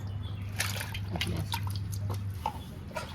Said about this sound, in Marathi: त्याचे स्लाइस करून टाकलेलं होतं ते एका पाण्यातून स्वच्छ करून परत दुसऱ्या पाण्यात